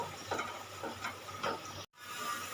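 A spice paste with ginger-garlic paste fries in oil in a pan for a Bengali tilapia curry. It gives a soft, steady sizzle with rhythmic scraping stir strokes about every half second, then a brief dropout.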